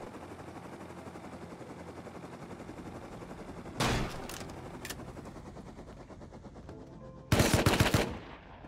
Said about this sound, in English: Where did I get shot from?